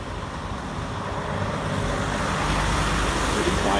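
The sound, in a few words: truck driving by at rest stop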